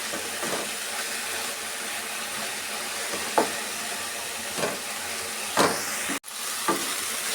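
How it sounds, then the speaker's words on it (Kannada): Mint chutney ingredients fry in hot oil in a pan, a steady dense sizzling hiss throughout with occasional soft stirring knocks and one sharp clack near the end. "ಈ ಥರ ಆಯಿಲಲ್ಲಿ ಚೆನ್ನಾಗಿ ನಾವು ಫ್ರೈ ಮಾಡ್ಕೊಂಬಿಡ್ಬೇಕು."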